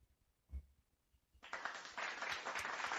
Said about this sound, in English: To give Marissa a hand, applause